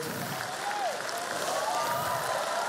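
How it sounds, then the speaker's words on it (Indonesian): A large political rally crowd for the Ganjar-Mahfud campaign breaks into sustained applause for Sandiaga Uno, steady dense clapping and cheering filling the hall without letup, a whistle-like tone drifting through. "Tepuk tangan yang meriah buat beliau."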